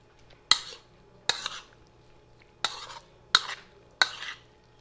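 Five sharp scrapes of a utensil stirring fish with egg, sauce and salt in a pan or bowl, spaced about a second apart, fairly close and clear with no talking.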